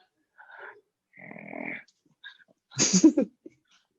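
A dog named Storm gives a few short, low growls and snuffly grumbles in separate bursts, close and quiet, with a louder final rumble.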